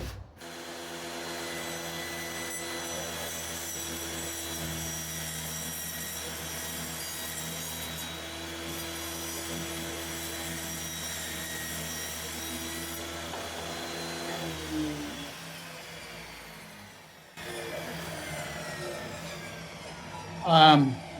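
A power tool cuts a groove down a wooden piece for a junk drawer replacement, a steady droning whine with tonal harmonics running for about fifteen seconds, then a pause and a brief second pass near the end.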